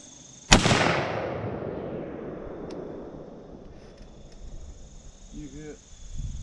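A single 350 Legend rifle shot at a shooting range: one sharp, loud crack followed by a long, fading echo, with a faint voice near the end.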